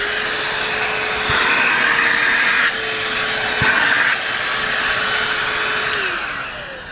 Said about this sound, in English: Today I'd like to introduce you to the brand new DeWalt hand dry vacuum